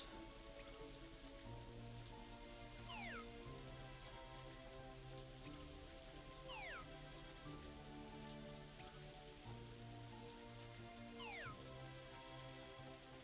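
Steady rain falls in the farming video game Story of Seasons: A Wonderful Life, a soft continuous hiss of drops over a quiet looping background melody, with no talking.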